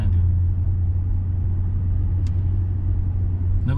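A car drives down a road and picks up speed, with a loud, steady low engine hum and tire rumble from inside the cabin and no talk.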